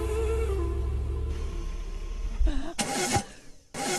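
A brand-new car's engine cranks and struggles without catching, in rough, uneven bursts of starter whine and sputter, close and fairly loud.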